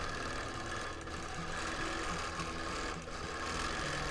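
A domestic sewing machine runs steadily during free-motion quilting of a wholecloth quilt, a continuous close mechanical whir with fast stitching rhythm and a couple of brief pauses in tone.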